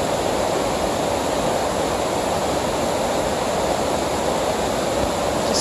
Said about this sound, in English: Just listening to the water coming down.